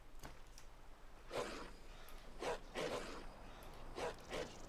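Two angry dogs barking in the video game Enderal, sounding as a few separate bark bursts at moderate distance over a low background hum.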